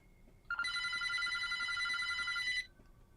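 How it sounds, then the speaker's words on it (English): A telephone bell rings in one continuous, bright trill lasting about two seconds, loud and close, over a faint background hum with no talking. "A couple of minutes go by when yet another phone starts to ring."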